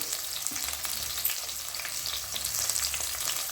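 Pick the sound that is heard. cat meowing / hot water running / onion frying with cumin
onion frying with cumin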